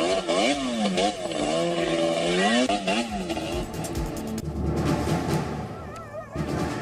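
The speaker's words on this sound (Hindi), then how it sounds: "कुछ लोग सैंड बाइक के साथ स्टंट कर रहे हैं। खाली सड़क पर एक ही जगह पर बाइक घूमती नजर आ रही है" Sand bike engine whining and revving on an empty road during stunts as the bike spins in place, a loud buzzing motor rising and falling in pitch repeatedly, fading somewhat toward the end.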